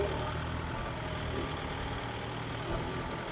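Kubota MU5502 50 HP tractor fitted with a water tank, its diesel engine running steadily at a moderate, even drone throughout, with no voices.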